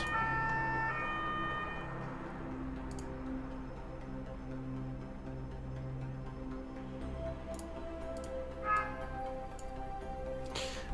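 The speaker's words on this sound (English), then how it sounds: "Police is having fun with their sirens, it seems." Police sirens wailing outside, faint and distant, rising and falling over a steady background hum, with a couple of soft ticks and no talk.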